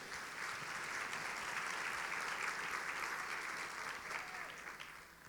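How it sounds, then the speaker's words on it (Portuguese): A church congregation claps together in praise during a sermon, an even wash of applause that holds steady and then tapers off toward the end. "Será que você pode dar um aplauso ao Senhor por isso?"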